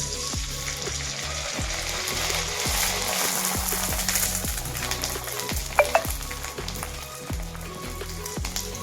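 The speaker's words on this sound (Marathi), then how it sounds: "आपण कोरडा तळणार आहोत" Rounds of dough for puran poli fry in hot oil in a kadhai, a dense, crackling sizzle that fills the clip, punctuated by regular scraping strokes of a spatula against the pan's metal.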